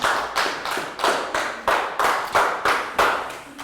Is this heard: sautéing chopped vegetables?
no